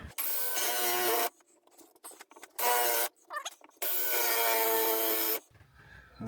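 Drill biting into a double-clamped piece of scrap wood, three long loud grinding bursts separated by quieter gaps with small knocks and handling noises.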